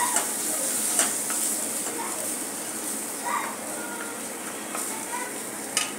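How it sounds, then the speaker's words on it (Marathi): Turmeric frying in a pan, a soft steady sizzle broken by light stirring scrapes and small utensil taps, with no one speaking. "आता यात पाव चमचा हळद घालत आहे, हळदही चांगली परतून घेऊ"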